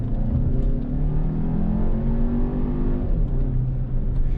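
A Volkswagen Arteon in sport mode accelerates hard from inside the cabin, its engine revving up steadily with a rising drone and a brief dip around a downshift, loud and close with no talk.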